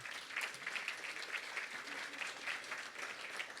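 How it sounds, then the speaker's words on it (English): Applause from a crowd at a ribbon-cutting ceremony, steady clapping throughout, heard from some distance and fairly soft. "why don't you give yourselves a round of applause?"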